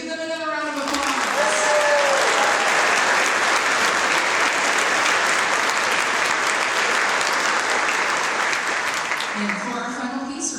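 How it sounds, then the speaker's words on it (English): Loud, dense audience applause fills a concert hall after a junior orchestra performance at a university summer music camp, holding steady for about ten seconds before tapering off, with a voice briefly audible at the start. "Let's give them another round of applause."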